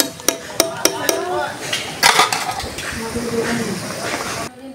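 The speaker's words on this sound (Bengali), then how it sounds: "আর একটু এদিকে বাঁধাকপি দিয়ে বেরেস্তা করে নিচ্ছি।" Cabbage fries in a pan at home, with a run of metallic clanks as a utensil strikes the pan, then continuous stirring and scraping with a faint sizzle. A voice murmurs in the background.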